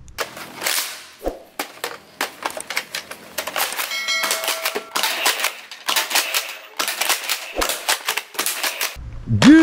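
A toy multi-shot gun fires in rapid, clattering bursts of sharp cap-like snaps, close and loud, in uneven runs with brief pauses between them.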